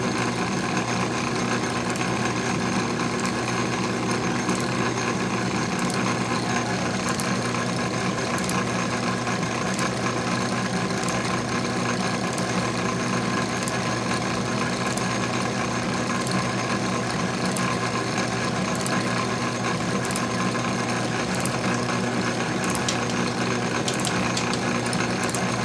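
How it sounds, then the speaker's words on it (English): An antique metal shaper takes a light cut on 3/8-inch aluminum plate, a continuous mechanical drone with regular clicking strokes of the clapper box ticking along at a steady pace, loud and close. "We're cutting aluminum about 3/8 thick"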